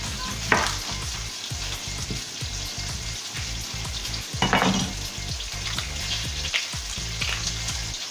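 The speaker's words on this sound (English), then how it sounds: "while those beef burgers are cooking" Beef burger patties sizzle steadily in a pan, a constant close frying hiss with periodic clicks and pops, no voices.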